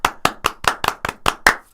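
A quick round of hand clapping, eight sharp claps in a steady rhythm, close and fairly loud, with no talk over them.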